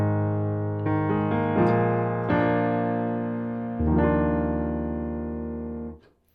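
Solo piano plays the last section of the introduction to a song: sustained chords, each struck and left to ring and fade, several changes in succession before the final one dies away to silence.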